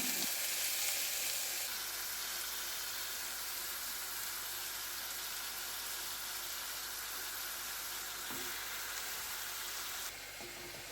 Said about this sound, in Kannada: ಈಗ ತುಂಡು ಮಾಡಿರುವ ಬಾಳೆ ಹೂವನ್ನು ಹಾಕಿಕೊಳ್ಳೋಣ